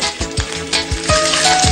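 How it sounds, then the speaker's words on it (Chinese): Salmon fillet pan-frying in hot oil, a steady close crackling sizzle with a few sharper pops and spits running through the whole moment, no voices over it. "油滋滋的哈，油滋滋的"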